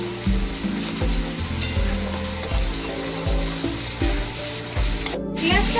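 Onions frying in oil in a pan for a Kolkata-style chicken rezala, giving a steady close sizzle with repeated soft thumps of stirring throughout, no talking.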